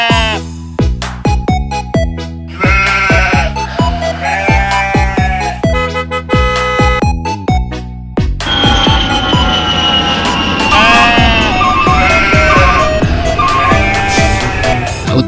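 A colorful toy sheep from a stall selling toy farm animals bleats loudly in repeated electronic baa calls over a jingly tune, close and continuous for about fifteen seconds.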